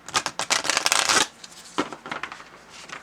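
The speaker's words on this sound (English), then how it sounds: "And this one, another little shuffle." Deck of reading cards shuffled by hand, a rapid riffle of crisp flicking cards for about a second, then scattered softer taps and slides as the deck settles, close and clear.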